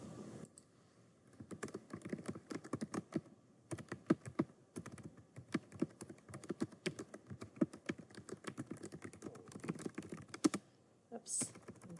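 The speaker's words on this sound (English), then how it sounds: "Oops, I'm typing too fast." Quick, uneven clatter of keys on a computer keyboard, close and fairly quiet, with bursts of rapid typing broken by short pauses.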